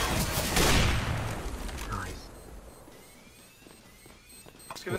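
A loud burst of gunfire in a tactical bomb-defusal shooter opens the moment, then fades into quieter game ambience with scattered faint clicks and a rising tone near the end.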